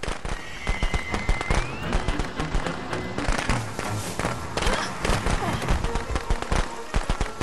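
Firecrackers going off in the horror video game Friday the 13th, a rapid, irregular string of sharp pops and crackles with a few dull thumps, fairly loud and continuous over game ambience.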